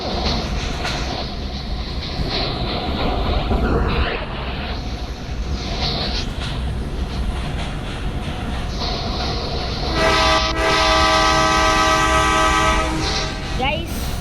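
A train in the Indian Bike 3D mobile game rumbles loudly and continuously, with a long sustained horn blast near the end over the rolling clatter of the wagons.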